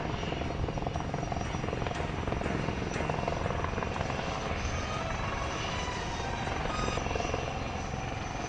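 A light combat helicopter flying a display at the Aero India air show in Bengaluru, its rotor throbbing loud and steady with a dense rhythmic chop that holds without a break.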